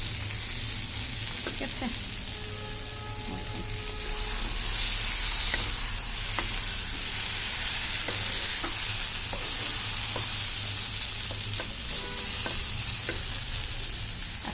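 Chicken frying and being stirred in a pan, a steady sizzle with repeated scraping stirs, while a voice talks briefly over the cooking.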